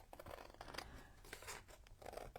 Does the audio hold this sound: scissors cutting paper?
yes